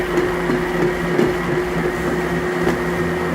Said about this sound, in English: I'm gonna start my blender, and I'm just gonna, doesn't take much, I'm gonna put it on the lowest setting.